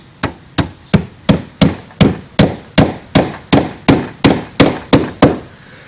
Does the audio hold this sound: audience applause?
no